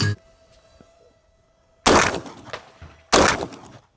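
Two loud shotgun blasts about a second apart, fired at an FPV drone about 70 metres away, each with a sharp crack and a trailing outdoor echo, after a quiet stretch with faint hum.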